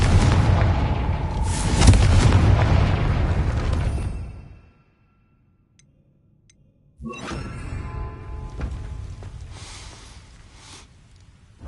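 Confringo spell explosions in the Hogwarts Legacy video game: two loud, booming, rumbling blasts, the first roaring for several seconds before it fades to silence, then a second sharp burst followed by a sustained crackling rumble.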